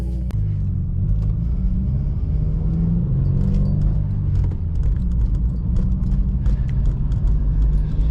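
Modified Subaru WRX engine heard from inside during a drive, a steady loud low rumble with shifting tones and light rattling clicks over it, no talk.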